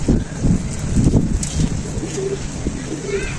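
Soft racing pigeon cooing sits low beneath strong wind noise and a few faint chirps, with the calls coming in brief murmurs.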